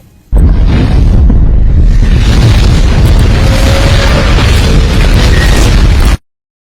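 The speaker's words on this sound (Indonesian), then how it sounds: "bom tersebut akan meledak beberapa detik lagi" A massive, sustained explosive roar fills the scene for several seconds at very high loudness, then cuts off abruptly into silence.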